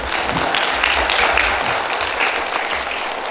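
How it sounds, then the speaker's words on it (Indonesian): A crowd at a Quran completion and graduation ceremony for an elementary school Quran class breaks into applause, a dense sustained clapping that holds steady for several seconds before easing slightly, with no talk over it. "Aplaus untuk semuanya."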